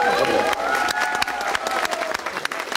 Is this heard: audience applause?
yes